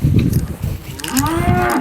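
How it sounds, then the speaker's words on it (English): A young calf on a farm gives a close, loud moo that rises and bends in pitch, with brief low rustling and handling noise around it and no talk. "I wish that we could get him to moo."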